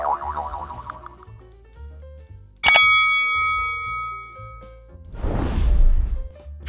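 A bright notification bell dings once with a sharp metallic strike and a ringing tail, set between soft musical tones and followed by a whooshing swell.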